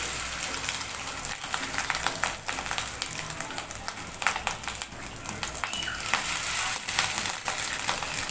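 Spoonfuls of egg fritter batter sizzle in hot oil in a steady, dense crackle with scattered pops and spoon clinks, close and continuous.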